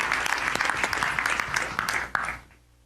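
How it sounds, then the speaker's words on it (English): An audience at a property networking event in Soweto applauds a speaker coming to the stage. A burst of dense clapping lasts about two seconds, then cuts off quickly into quiet. "Let's give him a round of applause."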